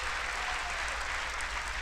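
Sustained applause in a large chamber during a State of the Union address, a continuous even roar of many hands clapping, moderately distant and fairly quiet, with no speech on top.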